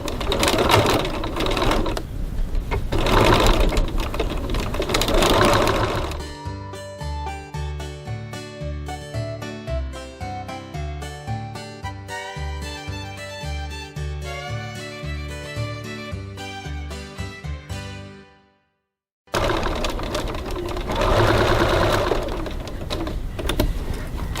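A sewing machine stitches close along piping at a stitch length of 2.6, giving a steady rapid whir near at hand. It falls silent briefly before the noise picks up again.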